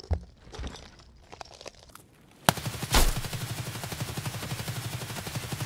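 Automatic gunfire in the shooter game Escape From Tarkov: after a quiet stretch of faint clicks and rustles, a sudden loud shot opens a sustained, rapid, evenly pulsing burst of close fire that continues to the end.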